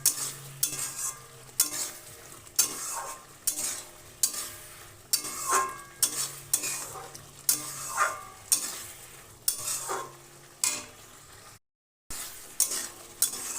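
Rhythmic stirring scrapes of a spoon through a vinegar-laced sour-spicy-sweet nolen pickle mixture, repeated strokes about every second, close and clear, with a brief gap near the end.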